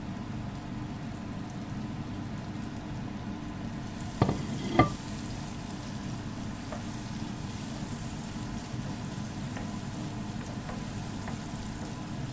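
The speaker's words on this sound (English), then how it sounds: "Saute it until the raw smell goes and turns into golden brown." Chopped onions sauté in a pan, giving a constant soft sizzle like light rain, with two brief clinks of a spoon early on and no talking.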